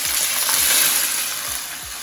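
Dumplings frying in a pan as water is poured in, giving a loud, steady hiss and sizzle that fills the clip, with faint low knocks underneath.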